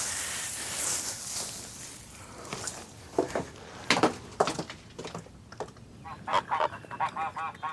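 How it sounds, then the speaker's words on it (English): Geese honking in a stubble field in short, scattered bursts, fairly close, with quieter stretches between calls and a soft outdoor background. "Up in the stubble field, the geese are settling in, gobbling up any leftovers on the ground."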